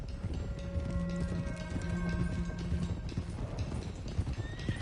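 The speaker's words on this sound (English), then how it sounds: "let's get these horses to Clemens Cove quick before we run into any more trouble." Horses gallop in a video game, with steady, dense hoof clip-clops, an occasional whinny and continuous game sound around them.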